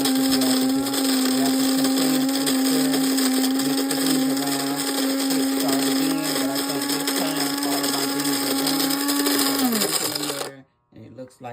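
A Cuisinart electric grinder whirs through coffee beans with a loud, steady motor drone and rattling beans for about ten seconds, then winds down and stops.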